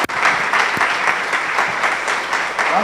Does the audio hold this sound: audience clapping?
yes